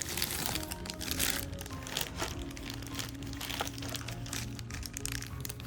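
Thin plastic wrapping around an anime figure crinkles and crackles steadily up close during an unboxing, a dense run of small crunches and rustles with no talk over it.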